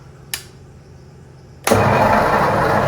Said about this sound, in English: jump the starter motor, see if it'll turn over